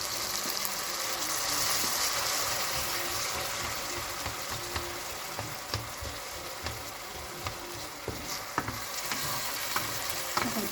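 Tomatoes frying in a pot for spaghetti, with a steady sizzle and frequent rhythmic stirring scrapes and clinks of a spoon against the pot, close and without speech.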